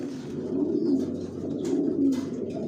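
Racing homing pigeons coo inside a loft, Johnson Milli racer birds giving a continuous low, throaty warble that swells and fades in waves, close and dense, with a few faint higher chirps and no talking.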